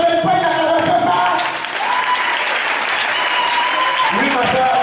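A church congregation at a healing service applauds loudly in a dense, sustained wash of clapping, with voices shouting over it throughout.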